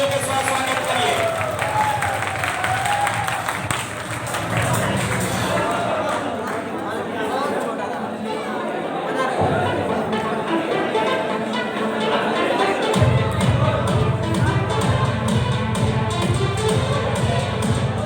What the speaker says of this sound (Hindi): एक बार फिर से जोरदार तालियों के साथ स्वागत करिए।